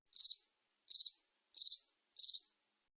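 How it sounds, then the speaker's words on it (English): A cricket chirps four times at an even, regular pace, each chirp a short, high, pulsed trill, clear and isolated against silence. "This is a cricket."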